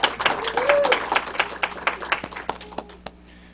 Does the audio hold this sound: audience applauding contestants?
yes